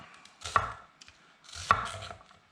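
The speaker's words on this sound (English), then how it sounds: "and then I slice through." Two distinct knife cuts slicing through vegetables on a board, each a crisp crunch ending in a knock against the surface, close and clear in a quiet studio kitchen.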